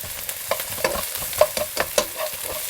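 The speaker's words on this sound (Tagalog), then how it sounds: "At dahil mainit na ang sesame oil, ilagay ko naman yung onion" Onion fried in hot sesame oil, stirred with a utensil: a continuous sizzle broken by a series of rhythmic scraping strokes against the pan, close and fairly loud, no talking.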